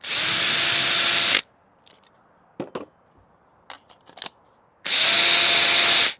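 Two loud bursts of a Ridgid cordless drill with a new battery whirring at full speed boring a hole, separated by a quiet stretch with scattered clicks and knocks.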